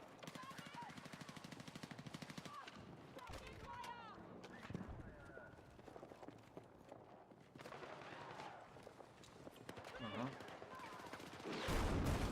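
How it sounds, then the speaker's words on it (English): Video game gunfire in L.A. Noire: rapid repeated shots and bursts over busy game sound effects and music, fairly faint overall, with voices talking throughout. "He's shooting."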